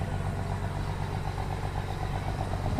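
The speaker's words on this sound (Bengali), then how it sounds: "এখন লঞ্চ চালাচ্ছি।" A river launch boat's engine drones steadily while underway, a continuous low rumbling hum with a faint rhythmic throb, close and unbroken, with no voices over it.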